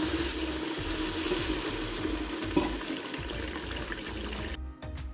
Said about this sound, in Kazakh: Су құяйын деп жатырмын.